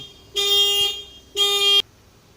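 Viva motorcycle alarm blaring two loud, steady electronic tones close by, each lasting about half a second with a short gap between them.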